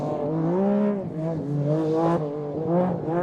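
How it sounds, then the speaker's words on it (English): A Metro 6R4 rally car on loose gravel at Pembrey makes a deep, booming engine note that rises and falls steadily as the car bounces across the surface, close and loud throughout. "That oh so distinctive 6R4 noise booming around Pembrey"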